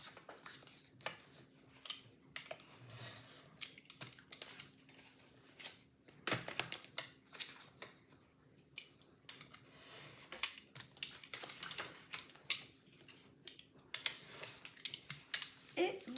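Scissors clip the four corners of a paper album for a cosy winter craft project, producing repeated short, close snips and light paper rustling at a quiet level.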